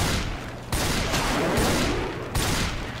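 Gunfire from a weak gun in Left 4 Dead 2 versus play, loud sustained rapid shooting broken by brief pauses, close and dominant with no talk.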